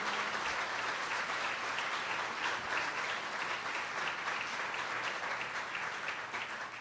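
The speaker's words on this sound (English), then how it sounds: "how about again, a round of applause for the board of directors, the staff, the volunteers, the donors" Steady, dense applause fills the room at the grand opening of an LGBT community center in Hauppauge, a sustained even wash of clapping from a sizable audience.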